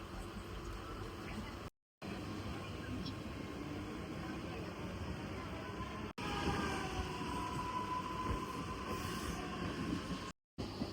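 Inside a moving Mumbai suburban train carriage near Thane station, a steady loud rumble and rattle of wheels on track with a brief squeal, and passengers talking over it.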